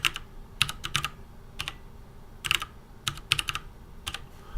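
Close, quiet key clicks come from a computer keyboard as zip codes are typed in, in short irregular bursts of several taps with brief pauses between.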